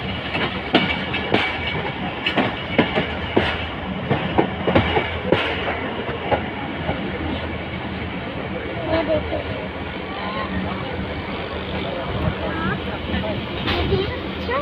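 The Tezgam Express passenger train from Karachi to Sahiwal, hauled by a GEU-40 locomotive, rumbles steadily along the rails with continuous clickety-clack heard from inside the carriage, a constant loud roar with faint chatter in the background.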